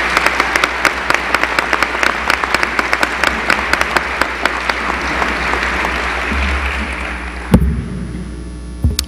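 Applause fills a hall at an athletic Hall of Fame induction ceremony, steady and loud with dense clapping throughout, then cutting off sharply near the end.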